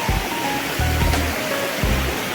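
A waterfall and a rushing stream current pour steadily in the open, with a continuous broad roar and a few low thuds of water surging among rocks.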